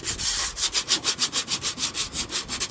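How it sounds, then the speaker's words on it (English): Sandpaper scrubbing rust off a sharp-edged metal part of a Frigidaire refrigerator that is not cooling, in rapid regular back-and-forth strokes of close, steady rasping with no talk. "Get it all sanded."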